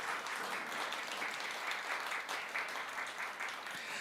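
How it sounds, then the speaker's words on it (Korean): An audience applauds at a political party's women's policy contest award ceremony, a dense, even patter of many hands sustained throughout, heard from a distance and fairly faint. "큰 박수 부탁드립니다."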